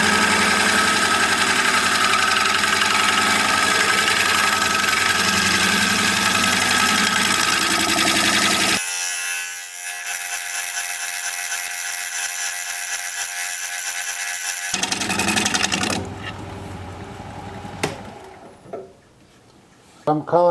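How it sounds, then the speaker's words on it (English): Shear scraping on a spinning wood lathe while turning a root piece, a steady dense motor-driven grinding hum that drops away midway, returns, then trails off near the end. "I'm going to try some shear scraping"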